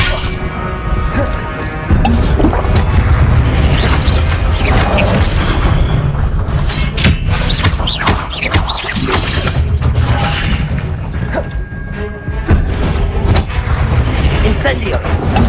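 Confringo blasting spells go off in Hogwarts Legacy as loud, repeated booming impacts and crashes over busy game noise, while a voice shouts spell names throughout.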